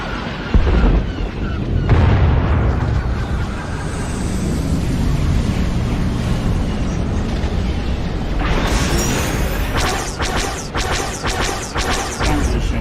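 Ships in a blockade open fire in the Star Wars: The Old Republic video game, with loud booming blasts, crashing impacts and mechanical clatter, including a burst of sharp repeated hits toward the end.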